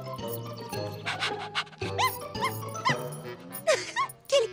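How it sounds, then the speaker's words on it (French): Cartoon dog at a dog show yips, barks and whimpers in a string of short, high, rising cries over a lively music backing, without speech. "Quel cabot celui-là!"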